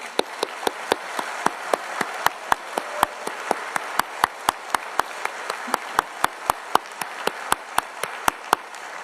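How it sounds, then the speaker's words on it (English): Audience at Orange County's State of the County address applauding public servants, a soft bed of crowd clapping punctuated by a steady train of sharp, evenly spaced loud claps from one nearby pair of hands. "Will you please join me in a warm round of applause for all of our public servants?"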